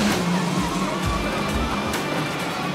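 A race car roars past at speed, a loud engine drone with rising and falling revs and rumbling bumps, with no talking.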